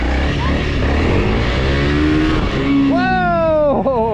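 Honda CRF 300L dual-sport motorcycle revving up through a wheelie, engine roaring steadily close by with a rising whine near the end, under excited children's voices and cheering.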